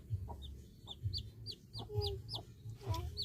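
Chickens cluck in short, repeated bursts nearby, a busy run of soft clucks and higher chirping calls over a low background murmur.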